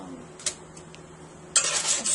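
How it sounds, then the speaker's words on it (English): A metal spatula scrapes and clinks against a pan while roasted cabbage is flipped carefully, with a few light taps early on and a louder scraping burst near the end, close and without talk. "I took them out of the oven to flip them, and how you flip them is gingerly"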